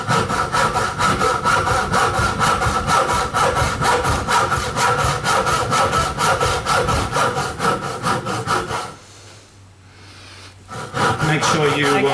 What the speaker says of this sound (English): I'll start off now by cutting the tenon, which I do with the tenon saw.